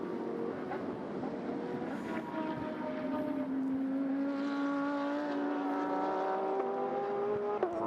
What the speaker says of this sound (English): Ojeda continues to nibble away at the back of the Arise Racing Lance East Exotics Ferrari 296 GT3